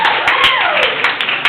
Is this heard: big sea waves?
no